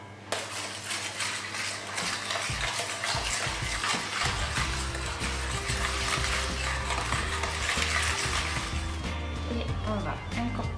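Muffin batter of almond milk and peanut butter being stirred in a bowl, a steady scraping, clattering churn running throughout, with a voice talking over it.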